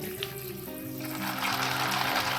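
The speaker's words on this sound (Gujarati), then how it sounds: "ચાલો તો છે ને આપણે તેમાં પાણી એડ કરીએ" Water pours steadily into a bowl of peanuts for soaking, a continuous splashing stream that grows slightly fuller and louder.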